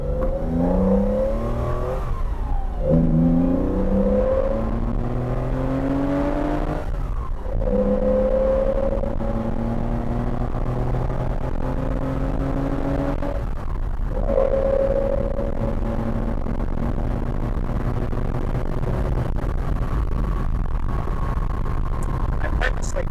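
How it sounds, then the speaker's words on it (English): A Porsche 914-6 engine revs up through several gear shifts under aggressive driving, pitch climbing then dropping at each change, steady and close throughout. "First drive this car a little bit aggressively to get a sense of the engine and the transmission, how it shifts"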